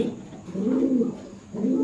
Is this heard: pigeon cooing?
yes